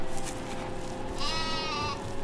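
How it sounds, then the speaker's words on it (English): A sheep bleats in the video game Farming Simulator 2015. One clear, wavering bleat comes through in the second half over a steady low machinery hum. "Just mind that little sheep down there."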